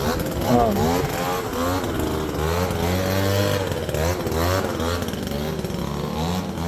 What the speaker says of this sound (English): I'm going to try to get by this guy with the blower here